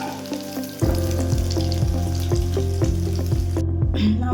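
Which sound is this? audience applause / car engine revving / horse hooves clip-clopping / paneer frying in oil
paneer frying in oil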